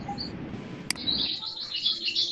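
Bird song chirps at mid distance, a chattering "gacor" bird giving repeated high tweets that grow denser in the second half over low room noise, with one sharp click near the middle.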